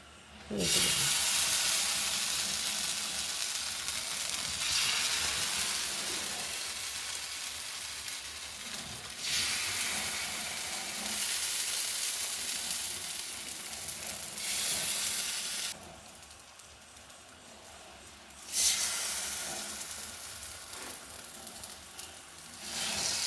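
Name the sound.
brinjal rotti frying on a hot griddle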